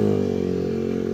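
A Yamaha NMAX V2 motor scooter engine, started without its key, runs at a steady, close, humming idle.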